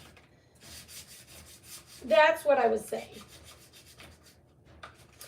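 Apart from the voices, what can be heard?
sanding craft pieces by hand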